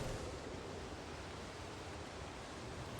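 Steady, broad rushing wind from a snowstorm in the video game Project Zomboid roars continuously without pause, fairly soft overall, with no voices.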